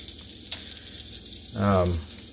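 Butter sizzles in a hot frying pan readied for ruffed grouse, a steady close crackling hiss throughout, with a brief low voice-like murmur rising over it near the end.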